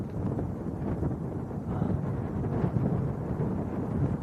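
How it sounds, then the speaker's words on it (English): Blustery evening wind beside Leeds Bradford Airport buffets the microphone with a continuous low rumble that rises and falls in gusts, close and fairly loud, with no voices. "A bit blustery up here this evening, but it's not too cold."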